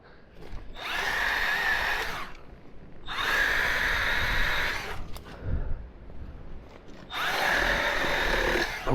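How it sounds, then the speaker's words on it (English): A hedge trimmer cuts through tangled branches on a farm in three long loud bursts, its high buzzing motor snarling for a couple of seconds each, with short quiet gaps between cuts. "All these branches, they all get in the way of the hedge trimmer"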